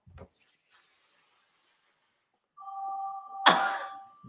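Telephone ringing indoors during an Easter holiday club, a steady electronic ring lasting about two seconds, followed by a sharp clattering knock.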